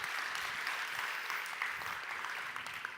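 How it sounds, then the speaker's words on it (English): A conference audience gives a round of applause for the program committee, a steady wash of many hands clapping, soft and somewhat distant. "really give them a round of applause"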